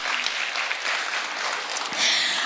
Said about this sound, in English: May we please give them a uranium round of applause.